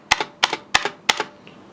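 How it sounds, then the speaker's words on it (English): Four evenly spaced presses of the spacebar on a Mad Catz S.T.R.I.K.E. 2 RGB gaming keyboard, each a close, loud double clack of press and release, with nothing else audible. "So the spacebar does sound a little bit different."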